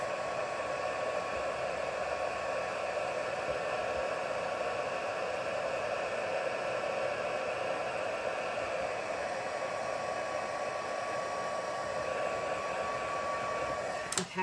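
A heat gun used to emboss white sentiment stamping on dark cardstock gives a steady, close, blowing whir that runs without a break and cuts off at the end.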